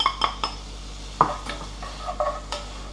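Garlic, rosemary and diced lardons sweat in a pan for an artichoke barigoule, with a few sharp utensil scrapes and clinks against the pan over a quiet background, no talk.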